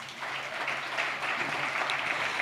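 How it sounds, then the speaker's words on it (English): An audience at a public safety symposium opening ceremony applauds: a dense, continuous clatter of many hands, fairly loud and sustained throughout. "That should get an applause."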